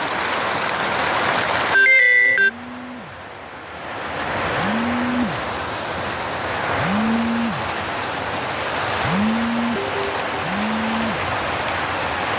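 Steady rain falling outdoors during bad weather on a walking pilgrimage from Delhi to Amarnath, a continuous broadband hiss under repeated low honking calls and a brief electronic beep near the start.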